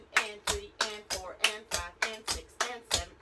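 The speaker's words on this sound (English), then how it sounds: "Now on the next count of 8, we're gonna step and clap" Hand claps and stepping feet in a basic clog dance, about ten sharp, evenly spaced hits in a steady beat, close and moderately loud, without talk.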